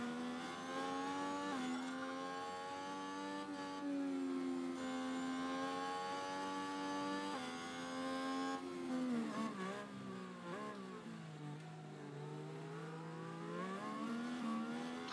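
Formula 1 race car engines in the F1 Manager video game wail at high pitch, rising and falling through gear changes in a continuous, fairly quiet stream of screaming revs with no talk.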